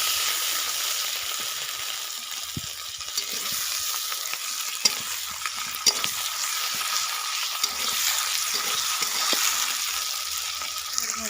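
Ginger, garlic and cumin paste sizzles steadily in a hot pan of oil for an egg curry, a continuous close frying hiss with occasional stirring scrapes and clicks throughout.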